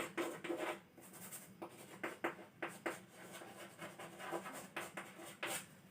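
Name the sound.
writing on paper with a pen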